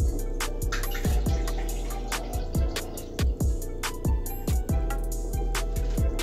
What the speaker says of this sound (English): Now you're gonna just pour out a whole glass.